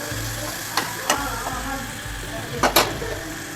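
Spices being stirred in a pan while making dal palak, a low steady sizzle with a few sharp scrapes of the spoon against the pan, close and fairly quiet.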